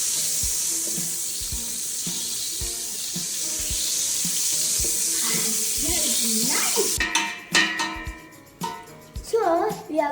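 Margarine melted in a sufuria pot for cinnamon popcorn is stirred, with soft steady scraping and sizzle for about seven seconds, then sharper, brighter spoon clatter and knocks against the pot near the end.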